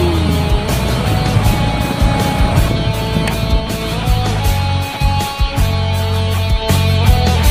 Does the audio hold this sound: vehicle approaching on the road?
yes